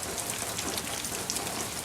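Storm rain pours steadily outside a house in a soft, even hiss with scattered close drops, continuous for the whole short stretch and with no voices.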